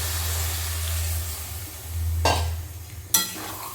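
Water poured into a pan of frying taro and small shrimp sets off a low steady sizzle, broken by two sharp hissing bursts near the end as the water hits the hot pan.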